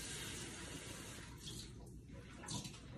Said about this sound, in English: So I'm gonna fill my ½ cup with some water.